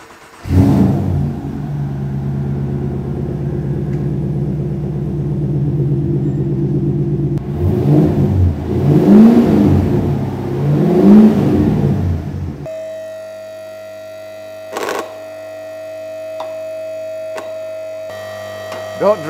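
A V8 engine with a custom stainless steel exhaust starts and settles into a deep, steady idle rumble, then gives a couple of loud revs that swell and fall back. It sounds close, before a quieter, unrelated stretch.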